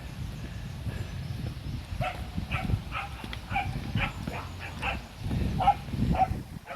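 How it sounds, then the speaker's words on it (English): Several dogs bark repeatedly in excited bursts, fairly close, over a rumbling background of wind or movement. "And the dogs are going mental."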